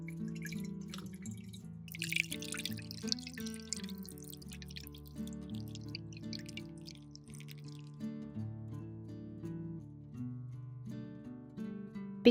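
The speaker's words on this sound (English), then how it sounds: "use a sieve to filter the water." Fermented tomato juice drips through a sieve in a quick patter of small droplets over the first eight seconds, set against steady background music.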